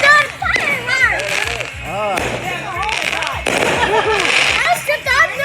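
Fireworks crackle and pop in rapid bursts nearby, mixed with excited shouting and children's voices throughout.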